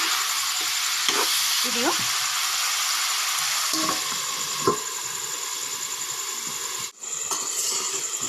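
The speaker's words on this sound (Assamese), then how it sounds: "নিমখ দি এয়া লৰাই লৈছোঁ মাংসখিনি এতিয়া তেল এৰালৈকে মই ভাজি ল'ম" Local free-range chicken meat frying in oil in a pot over a wood fire, a loud, steady close-up sizzle with occasional stirring scrapes and a brief spoken word or two over it.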